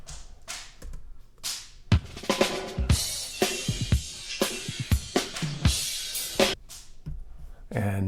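A drum kit beat built on a punchy snare plays as a rhythmic run of crisp hits and thuds, moderately quiet, with cymbal-like wash between the strikes and no talking.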